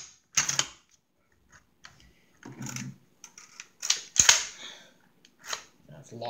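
SKS rifle action worked by hand during basic maintenance: a few sharp metallic clacks and snaps spaced unevenly, close and fairly loud, with quiet gaps between.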